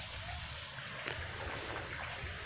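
Water flows through a Bell siphon into a pond filter made of 75 mm pipes and mason-style boxes, giving a steady rushing trickle with a few small splashes.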